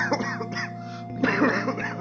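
A few rough coughs and throat-clearing bursts up close from a person with a cold, with a raspy, congested quality and short pauses between them.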